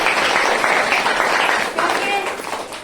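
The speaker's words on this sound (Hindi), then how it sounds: "एक जोरदार ताली लगाइए" Applause from an audience at a gathering, a steady dense burst of clapping lasting a few seconds and fading slightly toward the end.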